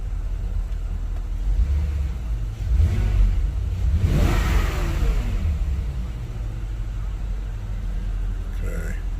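Engine of a Porsche Cayenne Turbo 958 running after a thermostat install, a low steady rumble with a brief rise in revs midway, heard close with some background noise.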